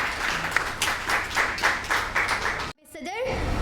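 Audience applause for a debate contestant at a competition on population in Lahore, steady clapping filling the hall for nearly three seconds before cutting off abruptly, followed by a brief voice.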